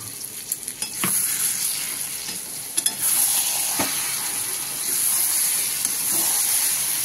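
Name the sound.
stirring frying eggplant vegetable curry in a pan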